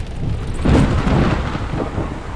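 Heavy rain pours beside a flooded creek in Australia while thunder rolls in a deep, swelling rumble that peaks partway through and stays loud throughout.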